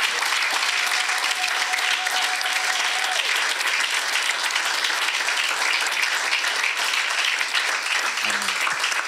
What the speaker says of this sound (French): Est-ce que nous pouvons acclamer très fort le Seigneur?